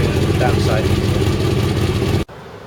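A motorcycle engine idles to warm the oil before an oil drain during a clutch plate change, a steady, close, rumbling drone that cuts off abruptly near the end.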